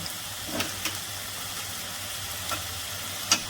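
Spices such as turmeric, onion paste and garlic paste fry in a pan for a hilsa fish head and taro greens dish, giving a steady low sizzle broken by a few faint stirring scrapes, with no one talking.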